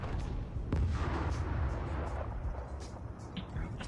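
MechWarrior Online weapon fire from a Nova mech in a team match, heard as a dull, rumbling volley of booms and rolling blasts that swells and fades over a few seconds, moderately loud, with faint distant impacts trailing off.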